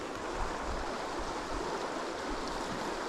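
River water flowing along a forest road, a steady broadband rush and gurgle with low turbulent swells, constant and moderately loud, with no voices.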